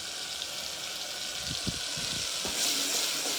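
Food frying on a home stove as a mother cooks, a steady soft sizzle with a few faint clatters of stirring, no talking.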